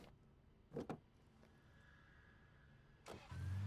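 A car in the Alan Wake video game: a couple of door or mechanism clunks, a quiet hum, then the engine turns over and settles into a low idle, with no talking.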